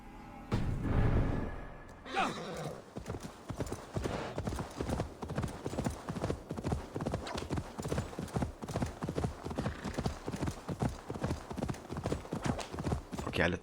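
Steady clip-clop of horse hooves in Assassin's Creed Valhalla, an even rhythmic plodding that carries through the whole stretch, fairly close and prominent.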